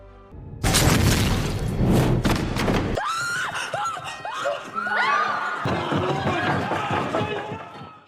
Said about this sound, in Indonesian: ketika waktunya sudah habis, ternyata bom itu aktif yang membuat Hwang Gyu tewas